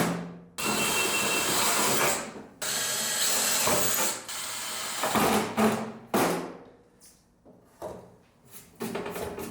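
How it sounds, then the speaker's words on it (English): A power drill bores a hole in a metal panel while an Alubox RuumX and MOLLE panel are installed. It comes as loud, close bursts of whirring and grinding, broken by short pauses and clatter. "when drilling, I know that the bit will have a tendency to want to wander on the metal"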